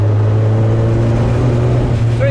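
A 1937 Austin 7 Cambridge Special with a side-exit exhaust, its small engine droning loud and close in a steady high-revving note without letup.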